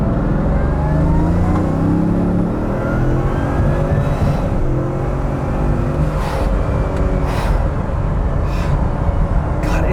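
A Bugatti Veyron Vitesse accelerates hard, its engine roaring loud and steady throughout with a dense, continuous drone and wind rush, no voices over it.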